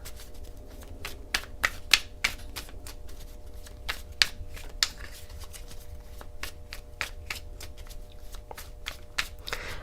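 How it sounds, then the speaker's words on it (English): Soft, rapid riffling and clicking of a deck of tarot cards being shuffled repeatedly, steady and close with no talking. "I'm not going to fast forward through the shuffling."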